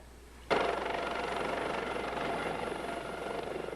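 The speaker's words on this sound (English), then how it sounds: "Pam was flown by Maryland State Police helicopter to the neonatal intensive care unit of Prince George's Hospital Center" Maryland State Police helicopter in flight, its rotor chop bursting in suddenly and loud, then a steady rhythmic thudding roar that gently fades, with no talking.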